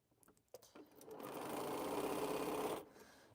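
A sewing machine stitches a quilt block in a single steady whirring run of about a second and a half, preceded by light clicks and handling, quiet and close.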